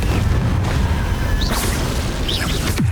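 A Confringo spell explosion in Hogwarts Legacy on the Nintendo Switch, a loud, sustained booming rumble with whooshing bursts and a final deep thud, close and dense.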